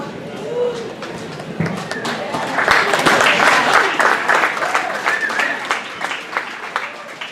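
An audience at a school student-of-the-month award ceremony bursts into applause that swells to a loud peak and then tapers, with voices and cheers mixed into the clapping.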